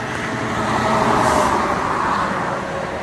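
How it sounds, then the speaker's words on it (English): Heavy road traffic on U.S. Route 20 passing below a highway crossing, a loud continuous rumble and whoosh of a large vehicle going by close and swelling briefly before easing off. "Cars on that side."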